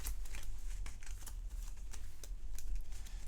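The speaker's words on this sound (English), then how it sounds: "let me shuffle these cards" Playing cards riffled and shuffled by hand during a tabletop board game, a continuous papery flutter with small crisp bursts, steady and close for a few seconds.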